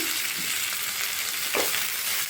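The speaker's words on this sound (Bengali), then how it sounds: "তেলে একটু ঝিঙেগুলো কষে নেব" Ridge gourd pieces fry in oil with turmeric and salt, making a continuous close hiss with a faint stirring scrape partway through.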